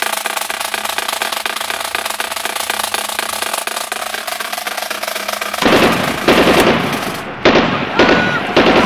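Loud firework-style bangs and crackling bursts from a cannon being fired at an outdoor event, dense and continuous, growing heavier and sharper toward the end.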